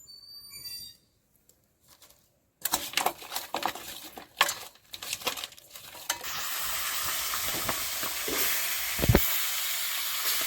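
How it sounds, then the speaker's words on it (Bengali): Fish heads fry in hot oil with salt and turmeric. The sizzle starts after a quiet opening, with intermittent stirring clatter, then turns into a steady loud hiss. "প্রথমে আমি ওই মাছের মাথাগুলো ভেজে নেব"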